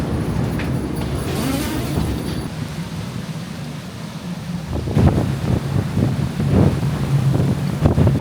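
Gale-force wind buffets the microphone at a marina dock, a loud continuous roar mixed with lapping waves and boat noises, gusting harder toward the end.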